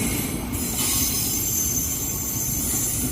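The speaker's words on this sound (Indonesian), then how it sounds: "KRL Jalita saat ini sudah diberangkatkan dari stasiun Kampung Bandan" A KRL Jalita electric commuter train pulls out of Kampung Bandan station in Jakarta, with steady loud rolling rumble and wheel noise that continues throughout, near and without talk.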